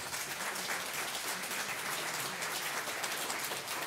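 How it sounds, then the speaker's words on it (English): Audience applause fills the room after a conference talk on open-source analyst tooling, a steady dense clapping sustained at an even level throughout without pause. "You can applause."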